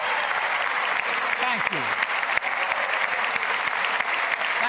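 Members of the U.S. House of Representatives give a standing ovation at the Capitol for Ukraine's ambassador, with dense, sustained applause filling the chamber and a brief spoken thanks near the start.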